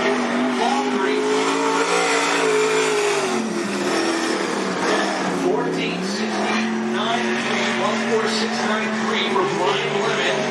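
A race car at Cottage Grove Speedway drones around the dirt track, its engine pitch rising and falling steadily over ten seconds, with track announcer speech mixed over the continuous engine noise.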